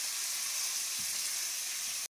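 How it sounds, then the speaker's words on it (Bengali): Cauliflower and duck eggs fry in a pan for a curry, giving a steady, close hiss and sizzle that cuts off abruptly at the end. "এদিকেও ভাজা হচ্ছে, দুটো করা, আবার এদিকেও ভাজা হচ্ছে।"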